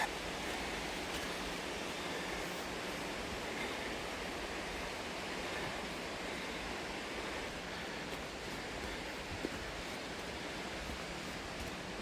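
A river rushes along the Watersmeet walk in North Devon, a loud, unbroken roar of flowing water that stays even throughout with no voices.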